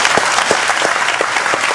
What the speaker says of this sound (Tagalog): palakpak na kayo